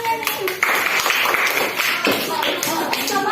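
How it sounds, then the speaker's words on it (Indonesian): Students clapping their hands in a classroom, a lively, uneven burst of applause running steadily throughout, with voices and chatter mixed in among the claps. "kasih tepuk tangan untuk orang kompak"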